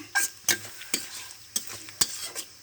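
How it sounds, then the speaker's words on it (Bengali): Crab and spices are stirred and sautéed in a pan, with a spatula scraping in quick rhythmic strokes about every half second over a low background sizzle, close and alone. "মশলা তো আমার ভাজানো হয়ে গেছে কাঁকড়া কষানো হয়ে গেছে"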